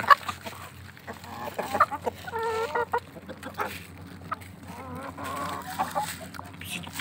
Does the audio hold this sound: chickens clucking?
yes